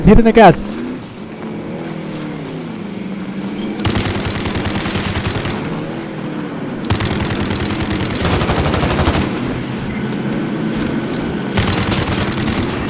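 A car engine revs and accelerates in the Call of Duty Warzone video game, a loud droning roar rising and falling under rapid bursts of gunfire, with people talking over it.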